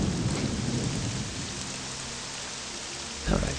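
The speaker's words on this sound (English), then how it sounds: "All the storms are kind of neat." Steady rainfall with a low, rolling thunder rumble during a storm in the video game Morrowind, the downpour hissing throughout and a brief louder thunder swell near the end, with faint speech under it.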